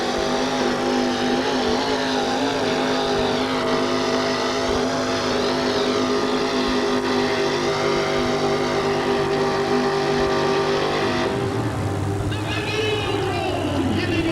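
Loud 468 cubic inch engine in a 1974 Chevrolet monster truck at an arena event in Oakland, roaring steadily and rising and falling in pitch, with crowd noise and a shift in tone near the end.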